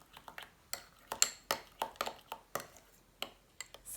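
A spoon clinks repeatedly against a bowl while stirring mayonnaise and Dijon mustard together, bright close taps in an uneven rhythm.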